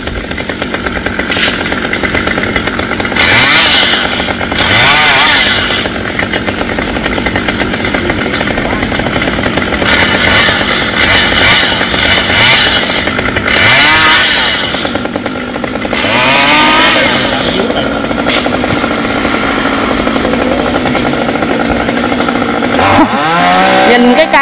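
Chainsaw cutting small, leaning Sao trees tangled with vines, its engine buzzing steadily near and loud with repeated revving surges throughout.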